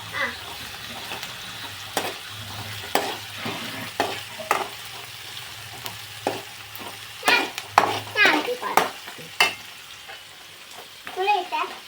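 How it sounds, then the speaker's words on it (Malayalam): A spoon stirs tuna curry in a hot pan, giving repeated scraping strokes over a steady low sizzle, close up, while voices talk quietly in the background. "ഞാനൊന്നിളക്കി കൊടുക്കട്ടെ"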